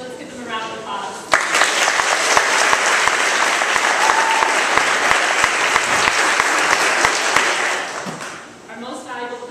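A school recognition-day audience gives a sustained round of clapping for the varsity field hockey team, a dense burst that starts abruptly, stays loud for several seconds, then tapers as an announcer's voice speaks at either end.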